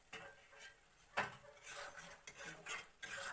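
A metal lid lifted off a cooking pot of stem-and-potato curry (data alu chachchari) clinks and scrapes in a few quiet, close clatters of cookware.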